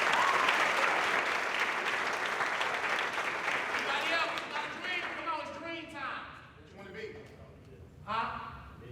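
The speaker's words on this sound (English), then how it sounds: "Give her a round of applause." Audience at a youth town hall breaks into loud applause, a dense burst of clapping that fades over several seconds while voices and cheering rise through the tail.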